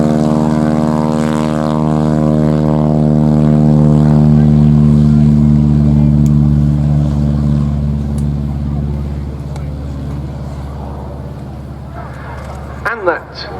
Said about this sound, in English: the Boeing Stearman N2S2 Cadet, starting its takeoff roll now